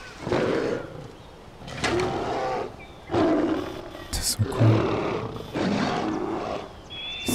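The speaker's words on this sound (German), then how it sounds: "Oh, Bär und Tiger." Bear and tiger roaring in repeated bursts as they fight in the video game Far Cry 4, with someone talking excitedly over and between the loud roars.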